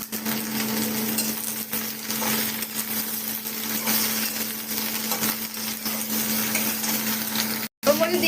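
Onion and vegetables fry in a pan for a fish curry, giving a steady close sizzle with scraping stirs and light clinks of a utensil throughout, broken by a brief cut near the end.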